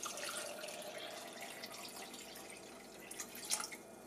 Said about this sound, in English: I'll use coconut water as my liquid